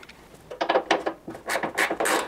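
A ratchet undoes the 13 mm bolts that hold the suspension legs on a Bosch Classixx washing machine, heard as short bursts of clicking and scraping turns, close and fairly clear, with no speech.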